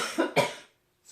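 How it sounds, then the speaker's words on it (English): Two sharp, close coughs from an adult woman in a row, with a short silence and a faint rustle afterward. "I'm still coughing."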